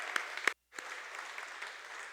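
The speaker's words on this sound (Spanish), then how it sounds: "también este aplauso es para ti" Audience applause following a spoken message, a faint, thin patter of clapping with a couple of sharper claps, a brief gap of silence, then the clapping resumes.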